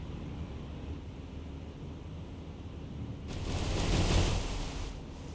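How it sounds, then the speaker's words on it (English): Shell splashes from naval gunfire land in the sea in the naval combat game War on the Sea, heard as a steady ocean wash that swells into a louder, rushing burst of spray near the end. "Lots of splashes close by, but not quite accurate any longer."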